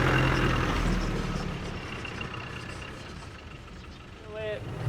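Cabin noise from a Land Rover Defender canvas-top factory pickup as it drives, a loud, steady engine and road rumble that eases slightly, with a voice talking over it.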